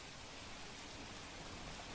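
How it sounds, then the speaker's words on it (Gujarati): Heavy rain pours down on Surat in South Gujarat, a dense, even hiss of falling water that stays loud and constant without a break. "સુરત સહિત દક્ષિણ ગુજરાતમાં ભારે વરસાદ જોવા મળી રહ્યો છે"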